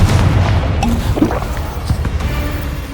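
A Confringo fire spell in the video game Hogwarts Legacy lands with a heavy booming blast at the start, then a low rumbling tail with a few fainter thuds and crackles.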